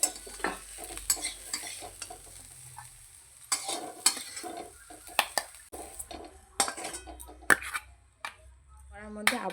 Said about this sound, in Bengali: পেঁয়াজগুলো এবার তুলে রাখছি।